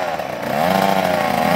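A dirt bike engine revs high in a sustained, buzzing, rising whine, loud and close, with no voices.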